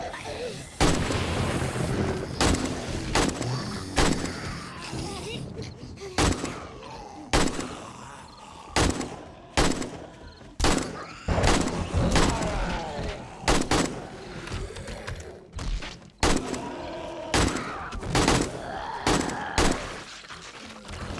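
Repeated loud gunshots in the video game 7 Days to Die ring out in rapid bursts and single blasts, spaced irregularly across the whole stretch, sharp and close.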